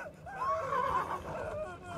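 Horse whinnying in the video game Trek to Yomi, a loud wavering neigh lasting about a second with game ambience beneath it.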